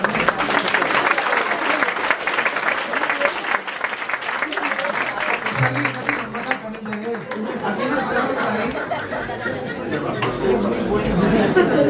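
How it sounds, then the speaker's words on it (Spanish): An audience applauds after a science talk on evolution and viruses, a dense burst of clapping that gives way to crowd chatter and scattered light laughter as it dies down. "Un aplauso para él."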